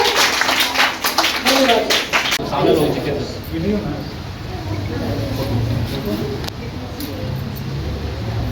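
Ajit sir receives applause at a school award ceremony during a cleanliness fortnight event in Fatuha. A short burst of crowd clapping fades after about two and a half seconds, then someone speaks over quiet background noise.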